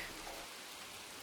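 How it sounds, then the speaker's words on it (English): Rain falling in a forest on the Oregon coast, a soft, even hiss of drops that continues without a break and without voices. "enjoyed a perfect rainy day in the woods"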